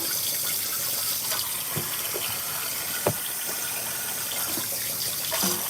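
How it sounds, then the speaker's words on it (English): Hands washed under a running kitchen tap after cooking chicken soup, a steady splashing gush of water at close range with a few brief clunks and knocks from the sink. "Let me wash my hands real quick."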